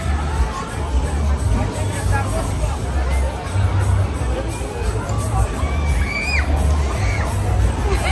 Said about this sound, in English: Go ahead, they are shouting.